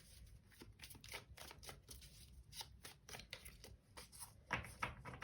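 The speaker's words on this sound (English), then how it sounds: "Bottom deck energies I stopped shuffling" Tarot cards shuffled by hand at close range, a quiet series of quick riffling and tapping bursts with short pauses, ending in a louder flurry.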